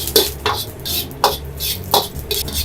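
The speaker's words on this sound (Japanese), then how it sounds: "弱火でじっくりと炒めていきます。" Round chili peppers are stirred in a wok over low heat, with a few distinct scraping strokes of a utensil against the pan, spaced about half a second to a second apart, close and fairly loud.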